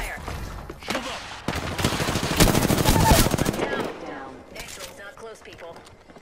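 Rapid automatic gunfire in the video game Apex Legends, dense close bursts that swell in the middle and then taper off into scattered shots, with a voice talking over it.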